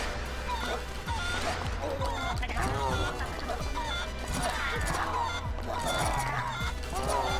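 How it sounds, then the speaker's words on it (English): In the video game Guacamelee!, a chicken attacks amid clucks, squawks and honking fowl cries mixed with crashing hits and game effects, all under continuous chatter. "I got a chicken attack now!"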